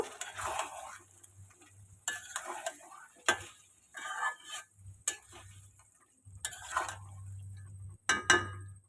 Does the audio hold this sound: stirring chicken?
yes